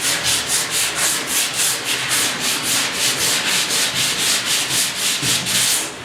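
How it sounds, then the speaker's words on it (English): Hand sanding with 80 grit sandpaper, rounding a squared edge on a 1972 Ford 4x4 short box bed repair; steady rhythmic back-and-forth strokes, loud and close, about two per second, with no talking. "What I'll do is I'll use an 80 grit for that."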